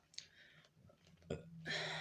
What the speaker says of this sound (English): I feel like I need to burp again